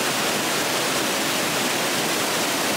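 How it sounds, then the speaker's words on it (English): Wild, rushing river water in Odda, Norway, a loud, steady broadband roar that fills the whole clip close by, with no voices over it. "Look at this water,"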